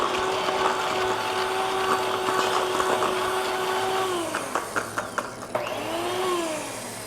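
A hand mixer whirs steadily in a stainless steel mixing bowl, then the beaters knock and clatter against the metal and the motor pitch dips and rises again as the mixing continues.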